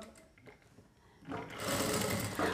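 A sewing machine runs along the edge of blouse fabric, starting after a quiet pause and then whirring in a loud, continuous, close stitching run.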